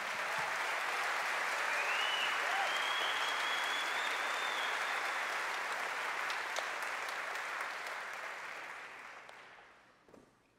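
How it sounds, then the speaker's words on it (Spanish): Steady audience applause at a concert, faint overall but dense and continuous for about nine seconds before tapering off, with a few scattered cheers mixed in. "María Pien, un aplauso para ella."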